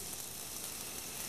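Chopped onion and ginger frying in olive oil in a pan give a steady, soft sizzle and hiss, faint and continuous with no talking.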